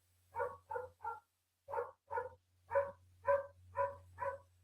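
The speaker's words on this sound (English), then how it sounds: "he's back barking near the door." A dog barking near a door, a series of about ten sharp, close barks in uneven bursts with short gaps, over a low steady hum.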